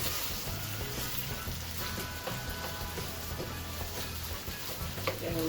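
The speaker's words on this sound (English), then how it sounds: "I know you guys hear that sizzle." Beef sizzles in a hot pan for Beijing beef, a constant crackling hiss with faint pops, steady and moderately loud with a low hum underneath.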